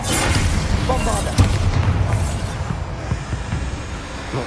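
A Bombarda blasting spell from Hogwarts Legacy, a deep booming explosion with rumbling debris, followed by lingering crackle and thuds, with a voice speaking around the blast.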